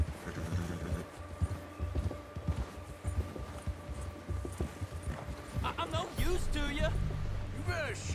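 Horse hooves clip-clopping in the video game Red Dead Redemption 2, a quiet irregular patter of steps under someone talking, with a few brief squeals and snorts near the end.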